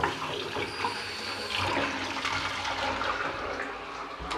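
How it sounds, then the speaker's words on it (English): Tap water runs steadily to rinse developed film in a darkroom, a continuous close splashing hiss that holds even throughout. "and we'll start the water rinse."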